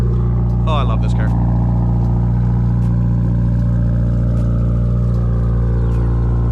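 A 2022-or-later Subaru BRZ / Toyota GR86 with an AWE Track exhaust cold-starts, a brief starter clatter and bark followed by a loud, steady, droning high idle that holds throughout.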